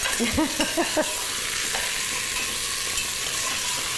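Onions dumped into a hot pressure cooker, a loud, steady, broadband sizzle that holds evenly throughout after a brief voiced exclamation at the start.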